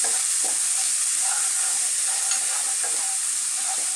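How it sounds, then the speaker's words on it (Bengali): Onion paste frying in a pan gives a steady bright hiss and sizzle, with soft rhythmic scraping as it is stirred, continuous and fairly close. "এখন এতে দিয়ে দেব 1 টেবিল চামচ পেঁয়াজ বাটা। আবারও একটু নেড়ে চেড়ে নেব।"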